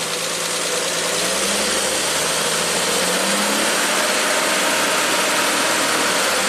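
A 1967 Triumph GT6 engine runs at raised RPM, a loud close steady drone with a rough mechanical vibration holding evenly throughout, no speech.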